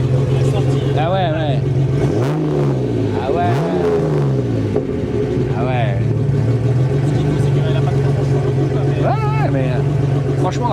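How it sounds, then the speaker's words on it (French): Revving engine of a 1988 TVR S1 through its original stainless steel exhaust with almost no silencing, a steady loud drone with rising and falling rev sweeps, heard under voices talking. "c'est un échappement inox d'origine qui n'a quasiment aucun silencieux"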